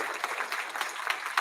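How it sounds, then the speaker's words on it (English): Dense clapping from a crowd at a golf hall of fame ceremony, steady and continuous applause filling the short moment. "Big round of applause for Lucy."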